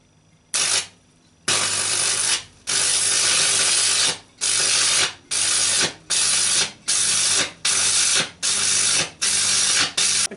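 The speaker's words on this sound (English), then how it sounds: "I can then weld over it with a 3mm rod." Arc welding on metal with a 3mm rod, heard as a series of loud, harsh crackling bursts in an on-off pattern, roughly eight strikes of about a second each separated by brief pauses, with no talking.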